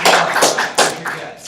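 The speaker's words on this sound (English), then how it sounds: "give Cam a great round of applause" Small group clapping for a person during an intro talk, a few sparse close handclaps in an uneven burst, brief and fairly loud.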